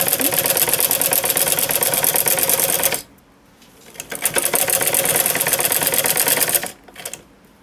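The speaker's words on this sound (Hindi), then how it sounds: "बिल्कुल सीधी सिलाई लगानी है हमने। जो इस साइड ये हमारा वाइट कपड़ा है, इसके ऊपर से हमने सिलाई लगानी है" Sewing machine running a straight seam along white fabric while sewing frill bell sleeves; a fast, steady mechanical whir in two long bursts, each ending in a brief pause before the stitching resumes.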